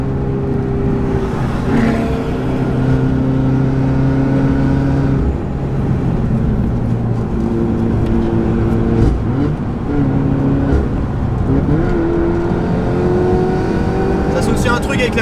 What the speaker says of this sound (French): on a un GT4, vous voyez, qui arrive à fond